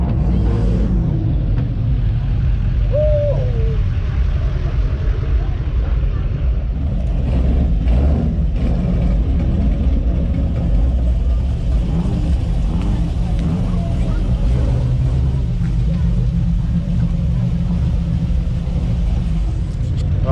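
Cars rev and roar at a car meet that has turned rowdy, with a heavy, continuous engine rumble and rising revs up close and a voice briefly heard over it.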